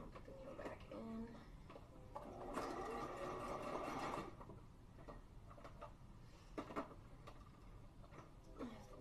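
A sewing machine whirs steadily and stitches close by, its mechanical chatter swelling for a few seconds and then falling back, with a voice talking over it at times.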